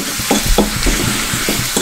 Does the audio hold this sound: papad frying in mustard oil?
yes